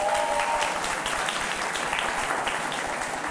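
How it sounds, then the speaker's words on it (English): Applause from an audience at a graduation ceremony for a ten-week entrepreneurship academy program, a dense, steady wash of many hands clapping that fills the whole stretch at an even level. "Why don't we give them a big round of applause?"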